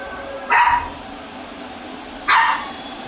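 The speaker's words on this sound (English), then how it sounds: "Got some puppies in the studio with me." Two short, sharp puppy barks in a broadcast studio, spaced about two seconds apart over a quiet background.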